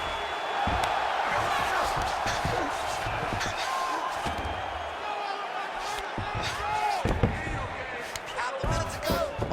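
A virtual arena crowd in the UFC 5 video game roars and cheers steadily as a fight plays out, with sharp thuds and slams punctuating the noise and commentary running over it.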